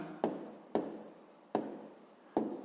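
Pen strokes scratch across paper in four short, distinct bursts, each one starting sharply and then trailing off, heard close and quiet in a still room.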